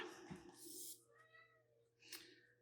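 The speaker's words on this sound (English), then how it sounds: "If you hear a meow, it's not me, it's the cat" A house cat meows several times, drawn-out rising and falling cries close by, with a steady low hum beneath and no talking.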